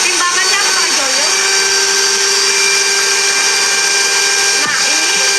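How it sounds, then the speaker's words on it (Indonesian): An electric mixer whirs steadily while beating pandan sponge cake batter until it turns thick and pale, a constant high motor drone running the whole time with a brief dip near the end, and a voice briefly audible over it. "ini kita mixer sampai dia putih kental ya"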